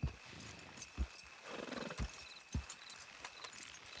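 Horse hooves thud in heavy, spaced beats with a whinny rising in the middle, set in the Western video game Red Dead Redemption 2; close and fairly loud, with no talk.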